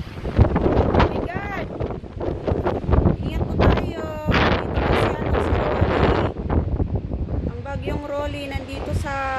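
Fierce Typhoon Rolly winds roar and buffet the microphone in a steady, loud rush with gusty surges, while voices call out intermittently over the din; rain is not distinctly picked out.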